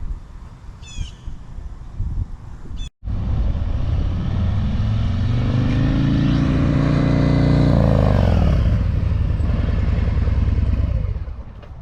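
Motorcycle braking hard from 30 mph using only the front brake: a loud, close engine roar that swells and holds, then drops away as the bike slows, with a brief cut early on.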